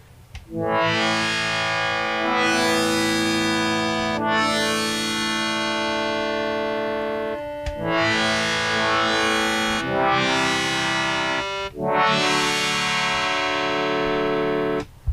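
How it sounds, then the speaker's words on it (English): Sustained synthesizer pad chords from a Sony Liven Mega Synthesis with a brassy, horn-like tone and long attack, swelling in four long held phrases with brief breaks between them, loud and steady. "It's sort of got a pad horn sound to it"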